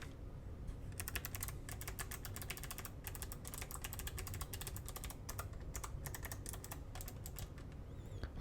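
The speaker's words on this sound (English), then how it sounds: "So I'm gonna press a couple keys for you next to the mic." Keys tapped on a HAVIT HV-KB395L low-profile mechanical RGB keyboard close to the mic, a quiet run of quick irregular clicks in small bursts with short pauses, alone.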